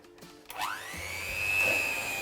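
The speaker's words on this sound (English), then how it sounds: "Whisking now. I'd start on a slow speed or it may go everywhere." An electric hand whisk starts up and runs steadily in chocolate fudge cake batter, a close, continuous whirring hum that rises slightly in pitch and holds, with no talking.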